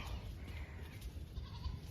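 A goat with its head stuck through the triangular openings of a wire fence, bleating faintly and intermittently against steady low background noise.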